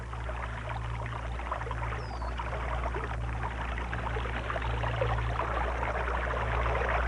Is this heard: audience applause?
no